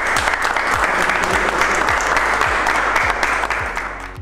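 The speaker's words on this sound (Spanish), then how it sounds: "quiero que todos se brinden un fuerte aplauso por su tarea" A strong round of applause from a crowd gathered at a camp event, dense steady clapping close by that carries on for a few seconds, with a low repeating hum beneath it.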